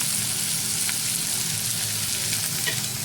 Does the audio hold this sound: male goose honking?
no